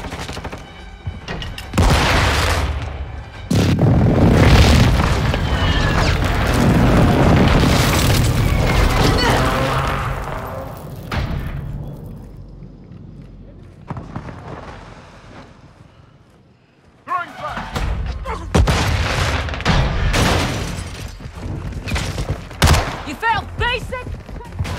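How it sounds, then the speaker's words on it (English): Heavy airstrike explosions in Call of Duty Modern Warfare 2 during a Hardpoint match: rumbling booms and gunfire build loud and sustained, fade into a quieter lull, then return as sharp bursts, with radio voice callouts over the top. "Hostile airstrike incoming."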